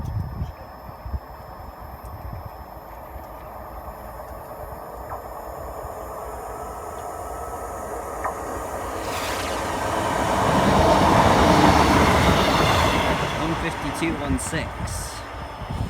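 A train passes a level crossing, a steady rumble and wheel noise that swells to a loud peak midway and then eases off, with people talking over it throughout.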